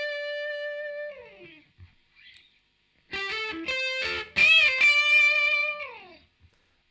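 Distorted electric guitar playing the first solo of a song, with sustained bent notes, a short pause, then a busier run of sharp phrases ending on a long held, fading note.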